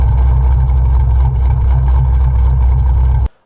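Lopey, choppy idle of an LS3 V8 swapped into an ND Mazda Miata, a loud, close, uneven deep engine throb that runs steadily and then cuts off abruptly near the end.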